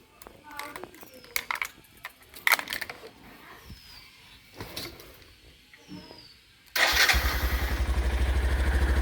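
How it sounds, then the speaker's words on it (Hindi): A motorcycle engine starts abruptly after some background chatter and then settles into a loud, steady idle close by. "अब इसको स्टार्ट करके फिर निकलते हैं।"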